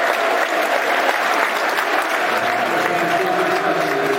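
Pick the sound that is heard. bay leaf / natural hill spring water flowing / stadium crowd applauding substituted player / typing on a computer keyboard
stadium crowd applauding substituted player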